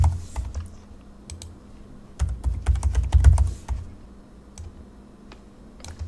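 Quick, close clacking of keys as a password is typed on a computer keyboard, in irregular bursts with a denser flurry midway and no talking.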